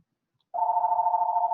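A telephone sounds in a classroom during a math lesson: one steady, unbroken electronic tone starts abruptly and holds at moderate level, with no talk over it.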